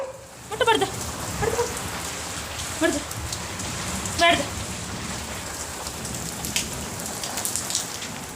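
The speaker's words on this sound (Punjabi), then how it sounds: "ਐਨ ਵਧੀਆ ਬਾਰਿਸ਼ ਹੋਈ ਹੈ" Steady rain patters loudly on a surface throughout, with a few short voice sounds and bleat-like calls breaking through now and then.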